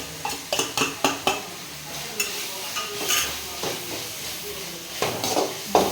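Tomato, onion and green chilli cook in oil for a kuzhambu as a spoon stirs, sharp clinks against the pan in a quick burst at the start and more scattered later, over a soft sizzle.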